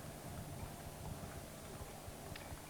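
Cavalry horses walk at a Napoleonic re-enactment display at Witley Court, their hooves making a faint, irregular clip-clop at a distance over a steady outdoor background hum.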